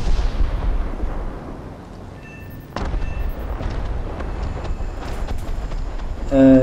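Heavy bomb blasts land on ground targets in the War Thunder Ruhr map, a dense rumbling roar with a sharp burst near the three-second mark, then a steady low rumble and a louder surge at the end.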